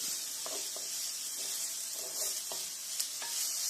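Sliced onions, two medium ones for a sardine fish curry, sizzle steadily in hot oil over medium heat while a spoon scrapes and stirs through them in short, repeated strokes. The sizzle is close and continuous, with no talking.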